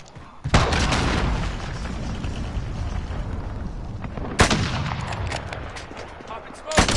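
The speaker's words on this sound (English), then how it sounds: "Allied cruise missile launched." A cruise missile strike in a modern first-person shooter game hits with a sudden loud boom and rumbling blast, followed a few seconds later by a second heavy explosion and a trailing roar.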